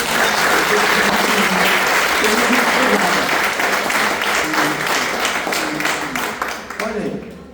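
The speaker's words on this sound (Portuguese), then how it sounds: "Eu queria aplaudir a Deus." A church congregation applauds in a dense, sustained wash of clapping that fills the room for several seconds before gradually thinning out.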